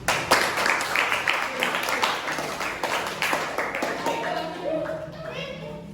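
Students applaud in a classroom after a group presentation. Many hands clap close and fairly loud, with voices mixed in, and the clapping thins toward the end.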